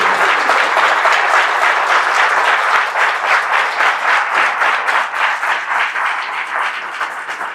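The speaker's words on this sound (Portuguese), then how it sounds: "Uma salva de palmas." A large audience applauds warmly and steadily after a talk on faith and the meaning of life, dense clapping filling the room throughout and slowly thinning toward the end.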